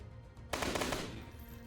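A single gunshot in the DayZ video game, a sharp broadband blast that rings out briefly and decays over about a second, with no speech.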